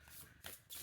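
A deck of cards is riffled and shuffled for a tarot-style reading, giving quick papery bursts in two or three short flurries, very faint and close.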